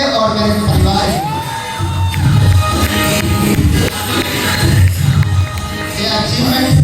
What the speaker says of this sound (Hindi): एक बार मैं बहुत बहुत दिल से और तालियां चाहता हूं आप सब के लिए